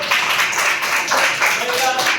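A group at a school science day quiz claps for a correct answer, steady close applause with voices mixed in.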